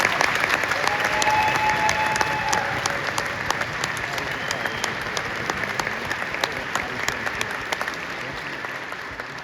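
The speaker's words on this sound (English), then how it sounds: "please give a huge round of applause for them" A large audience at a senior honor band festival concert gives sustained, even applause, a dense steady clatter of many hands holding at an unchanging level from start to finish, with no talking over it.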